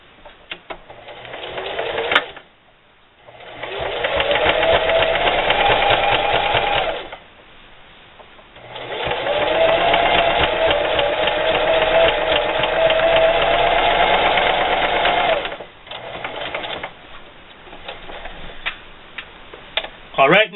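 Sewing machine running back and forth over a patch on a pair of jeans in long loud bursts, stopping briefly between passes, with a quiet voice heard in the gaps.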